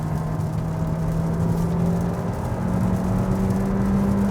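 Kia Seltos 2023 with a 1.6-litre turbo Smartstream engine and 8-speed automatic revving through the gears, a steady engine drone heard from inside the cabin, with rising and shifting tones and no talking.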